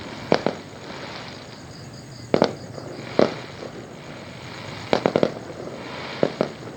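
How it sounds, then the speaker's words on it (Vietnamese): Holiday fireworks bursting outdoors, a series of sharp crackling explosions arriving in small clusters with short gaps, over a low steady background hum; no voices. "gọi Thư coi pháo hoa nè"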